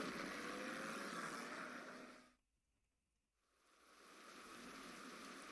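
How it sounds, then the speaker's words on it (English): Rain falling in a hex wargame set in Nationalist Spain, a steady hissing downpour that fades out briefly midway to near silence before swelling back to a full, even patter. "They built units and now it's raining."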